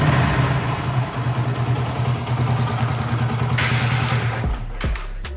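Motorcycle engine idling at a steady, even rpm after carburetor adjustment, a loud close rumbling putter with no fluctuation, ending in a few clanks and knocks.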